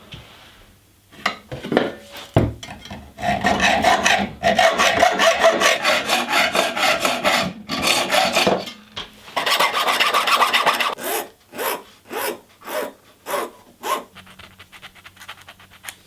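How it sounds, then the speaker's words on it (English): A hand file rasps burrs off short cut pieces of brass tubing in repeated scraping strokes, first in long runs, then in quick separate bursts, close and clear with no talk. "I've cut 2 short bits of tubing and just deburred it using a file"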